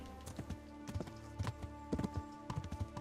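Horse hooves thud and clatter in a video game set in medieval Bohemia, a run of heavy clip-clop impacts with a couple of louder landing thumps, close and clear over a steady low ambient hum.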